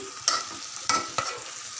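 Spoon stirring chili powder into a frying curry of ivy gourd with green chillies and turmeric, a few scraping strokes over a soft steady sizzle, close and clear with no talking.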